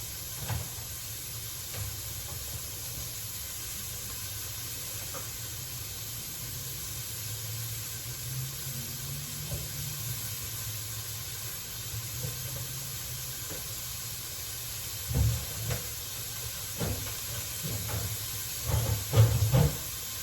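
Onion frying in a pan makes a soft, steady sizzling hiss throughout, with a few faint knocks and clatters of utensils toward the end.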